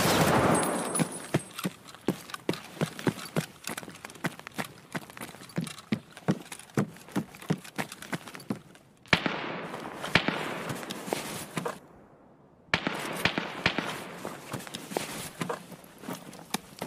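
Rapid footsteps of players in Escape from Tarkov, a steady run of sharp, evenly spaced steps with gunfire-like cracks in places, mostly close and loud, with two short breaks near the middle.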